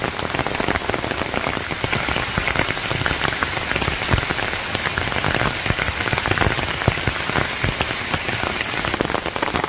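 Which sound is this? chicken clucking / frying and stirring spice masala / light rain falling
light rain falling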